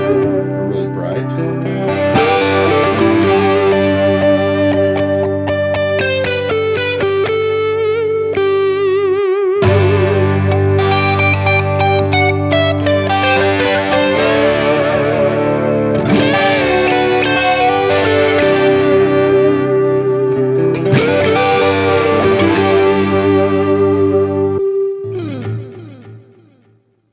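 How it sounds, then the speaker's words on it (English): Electric guitar runs through a Joyo D-Seed II delay pedal on a bright setting, giving a steady, dense, looping phrase with echo and chorus-like shimmer that plays continuously and loud for most of the stretch before cutting off. "So if we play it back, really dark with it,"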